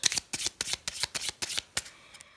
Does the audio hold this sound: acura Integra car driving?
no